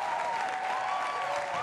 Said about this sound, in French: On applaudit s'il vous plaît pour Tatiana.